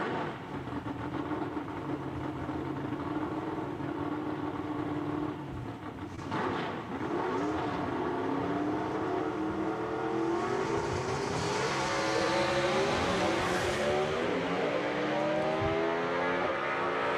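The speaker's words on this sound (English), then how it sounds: "Great looking wheels up launch right there by Todd Oden." A gasser drag car launches wheels-up down the dragstrip at Jackson Dragway, its engine roaring loudly and climbing steadily in pitch through long gear pulls as the car pulls away, with a steady crowd and track ambience behind.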